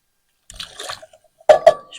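Canned sliced carrots and cut green beans with their liquid are poured into a container outdoors, heard as a few brief wet splashes and plops, near and fairly quiet, with no talk.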